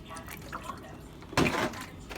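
Distilled water is poured into a juicer holding kale, making a brief, soft splashing burst midway through, quiet overall, with a few faint drips before it.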